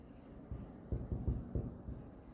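Pen or marker writing a share capital account entry during an accounting lesson, a few scratchy strokes in short bursts, fairly close and faint, with no talk over it.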